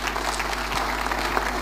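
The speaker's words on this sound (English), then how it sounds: "For Jesus, clap hands for Jesus." A church congregation clapping along, a loud, dense burst of hands over a constant low hum, brief and unbroken with no voices.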